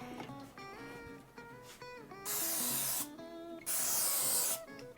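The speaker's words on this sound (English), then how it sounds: "Let me spray that real quick." Two sustained bursts of aerosol cooking spray on an apple turkey burger patty, each about a second long, hiss loudly over background kitchen clatter and faint music.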